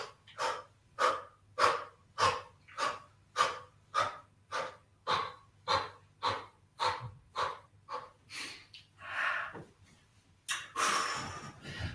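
Deep breathing during an exercise, a long series of rhythmic, evenly spaced breaths that are close and clear, slowing and changing toward the end before a louder rush of breath.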